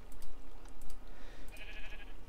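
Sheep bleat in the Minecraft video game, a couple of short, nasal bleats heard over faint clicking and a low background hum.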